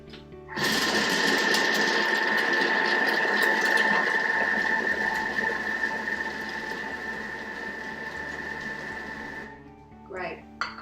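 Food processor chopping bacon on speed 4, a loud continuous whirring motor hum that starts abruptly, holds steady for about nine seconds, then cuts off.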